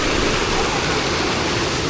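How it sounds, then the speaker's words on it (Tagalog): Water gushing from a tap on a farm, a loud, steady rushing spray close to the microphone, continuous and unbroken throughout with no voices. "yung tubig to sa gripo"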